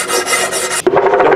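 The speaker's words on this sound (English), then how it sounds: "I want to run a stone across here to remove any edges" A coarse stone rasps back and forth across the metal flange of a Chevrolet Malibu catalytic converter, two quick rough strokes close up with a brief gap between them and no talking.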